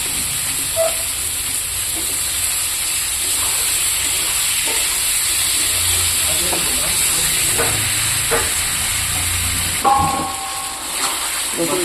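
Radish pieces frying in oil in a pan for a Bengali dish, giving a steady close sizzle and hiss throughout with a few faint stirring clinks, no talk.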